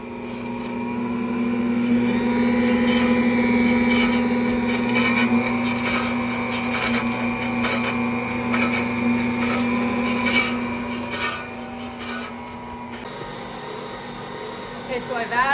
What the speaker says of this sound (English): Turn the mixer on.